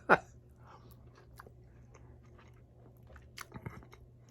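Close chewing of Tuno, a plant-based minced tuna alternative, with soft wet mastication sounds through the bite and a few sharper crunchy bites near the end, without talk.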